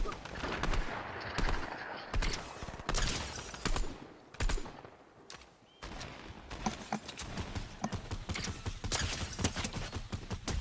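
Gunfire in a battle royale video game match comes in dense, rapid bursts and volleys that crack loudly and almost continuously, with brief lulls in between.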